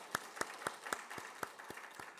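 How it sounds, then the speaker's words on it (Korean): A church congregation clapping in thanks during a Sunday morning service, heard as a faint, distant series of evenly spaced claps at a slow steady rhythm over quiet room noise. "우리 감사의 박수 한번 하나님께 올려드리십시다."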